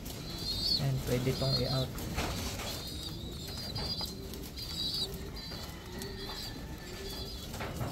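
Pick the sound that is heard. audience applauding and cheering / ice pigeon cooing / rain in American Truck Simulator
ice pigeon cooing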